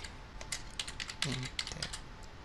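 Fingers type quickly on a computer keyboard, with a rapid irregular patter of soft key clicks up close and a brief voice murmur in the middle.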